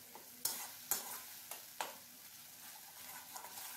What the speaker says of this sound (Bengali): বেশ কিছুক্ষণ সময় নিয়ে এভাবে নাড়াচাড়া করে মশলাটাকে আমি কষিয়ে নিচ্ছি